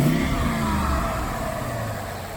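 A modified Ford Mustang 5.0 engine runs rough and loud, a steady low rumble with slight revving that eases off gradually over a few seconds, heard close up with no talking.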